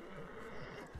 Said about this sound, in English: I've had enough this horse, it's absolute dog shit.